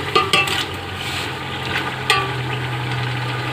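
Chicken frying with onions in a karahi, a continuous close sizzle with clattering stirring knocks near the start and again midway, over a low steady hum and no talking.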